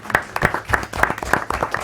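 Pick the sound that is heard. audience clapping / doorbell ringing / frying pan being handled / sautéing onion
audience clapping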